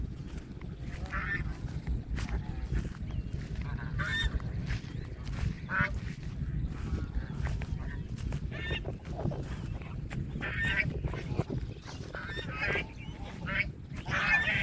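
Domestic geese on the Meghna river, Narsingdi, honk and cackle in repeated short bursts as someone draws near, under a constant low rumble of wind or water, with a voice briefly present.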